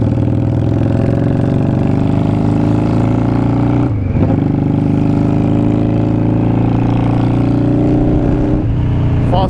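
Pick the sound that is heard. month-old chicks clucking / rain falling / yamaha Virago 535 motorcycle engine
yamaha Virago 535 motorcycle engine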